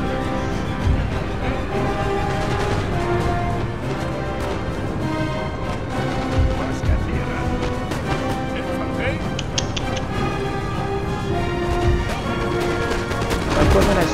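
Artillery cannons fire in a Napoleon Total War battle. Repeated booms and crashes sit inside dense battle noise and steady music, with someone talking over much of it.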